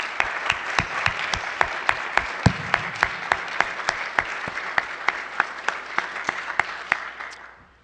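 A lecture audience gives a round of applause, a fairly small crowd whose distinct individual claps stand out in a steady rhythm before tapering off at the end.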